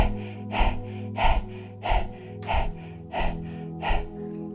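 Rapid breathing pumped from the navel in a Kundalini yoga exercise: seven sharp, forceful nasal breaths in a steady rhythm, close and clear with no talking.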